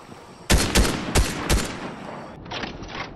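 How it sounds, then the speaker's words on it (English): Gunfire in Fortnite: four loud, sharp shots in an uneven volley, followed by quieter ringing reports trailing off. "Oh, I'm getting shot at."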